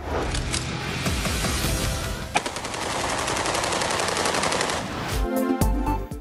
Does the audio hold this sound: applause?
no